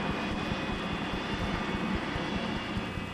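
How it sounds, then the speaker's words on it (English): Steady, loud whine and roar of the turbine engine on the Miss Budweiser racing hydroplane boat, a continuous dense drone with no pauses or talk. "That early morning tranquility is quickly shattered by the sound of power and thunder generated by this turbine engine."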